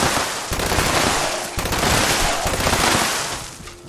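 Rapid bursts of automatic fire from a Two Shot Explosive light machine gun in Fallout 76, dense and loud with cracking explosive impacts, breaking briefly around one and a half seconds and easing off at the end.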